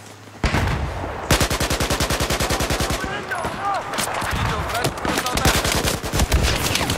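A suppressed light machine gun in the video game Battlefield 4 fires loud, close, rapid bursts of shots that repeat with brief gaps throughout.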